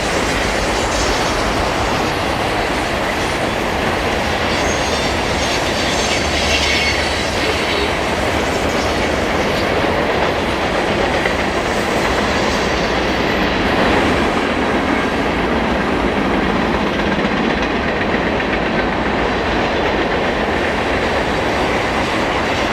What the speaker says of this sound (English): we're able to view trains in their entirety as they pass through these long, sweeping curves